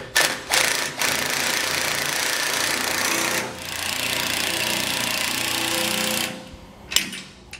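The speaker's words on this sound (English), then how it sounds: "Torx bit and a 3/4 inch wrench to tighten and torque each of our 8 fasteners here" A power tool driving a Torx bit on a socket tightens trailer coupler hinge fasteners, giving a steady loud whir that runs for several seconds, followed by a short clank and a small sound near the end.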